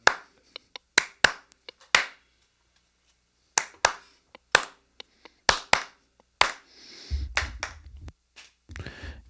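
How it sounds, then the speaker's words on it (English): Sharp hand claps ring out one at a time in an irregular sequence, loud and close with quiet gaps between them, while a low rumble and faint noise enter near the end. "Let's do some claps."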